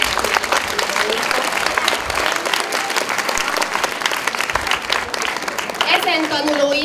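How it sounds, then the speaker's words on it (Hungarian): A school audience claps loudly for competition results at a graduation ceremony, a thick, continuous round of applause with some crowd noise and a voice emerging as the clapping starts to fade. "Egy nagy tapsot kérek a versenyeredményeknek."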